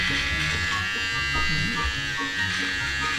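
An electric trimmer buzzes steadily while shaving a man's long beard at home, a continuous close hum lasting throughout, with children's voices chattering over it.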